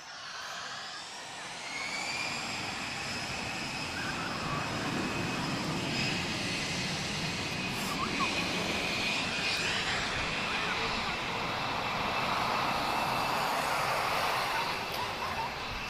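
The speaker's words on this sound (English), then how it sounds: "let's just let Finnair depart" A Finnair jet airliner departs Lisbon Airport, its engines making a steady, broad roar that holds loud and constant, with a whining high tone on top, and faint voices sit underneath.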